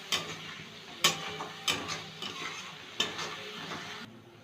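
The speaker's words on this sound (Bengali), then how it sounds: "মশলাটা কষিয়ে নেব ভালো করে" Turmeric and red chili powder paste with a splash of water stirred and fried in a pan for papaya ghonto, soft steady sizzle with several sharp scraping clacks of a spoon at irregular intervals, close by.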